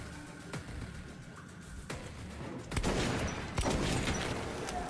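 Gunfire in Metro 2033 Redux: a handful of sharp, separate shots cracking at uneven intervals over a rumbling background, growing denser and louder in the second half.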